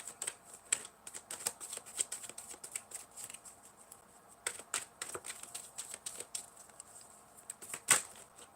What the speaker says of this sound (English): every time I pick up tarot cards and I start shuffling